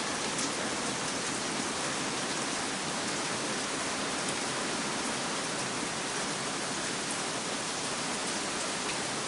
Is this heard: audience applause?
no